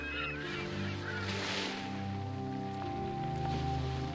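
Honking, goose-like squawks from a bird in the point-and-click adventure Chronicles of Mystery: The Scorpio Ritual, a few calls over steady background music and a soft rain-like hiss, with no speech.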